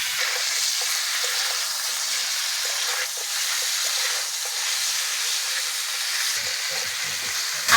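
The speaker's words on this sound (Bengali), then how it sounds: "মাংসগুলো ভালো করে ভেজে নেব।" Marinated yogurt chicken pieces frying in a little hot oil, a steady close sizzle and hiss running throughout with a few faint scrapes near the end.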